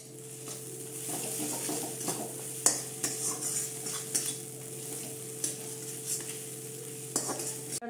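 Spices and a little salt stir-fried in a pan for a vegetarian mixed-vegetable ghonto, with a steady low sizzle and repeated scraping stirs of a utensil, one sharper clack partway through, close and moderately loud, no talking.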